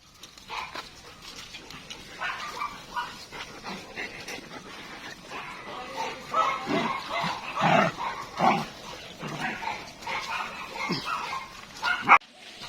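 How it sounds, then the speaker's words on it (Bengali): Several dogs bark, yip and whimper near the owner shortly before being sent off to Kustia district in Bangladesh; irregular overlapping barks and whines of varied loudness, close by, across the whole stretch. "তো আমি ডগগুলোকে নিয়ে দিচ্ছি আজকে নিয়ে যাবে কুষ্টিয়া জেলায় ম্যাক্স আর ম্যাক্সিকে"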